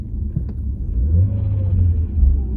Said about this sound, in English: now we're gonna do a sound test on the Passat